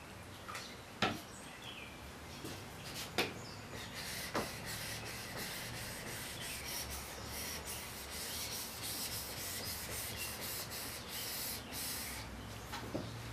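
A drawknife blade is rubbed back and forth on an 800 grit sharpening stone, a steady gritty scraping hiss with a few sharper clicks early on, close and fairly quiet, no talk.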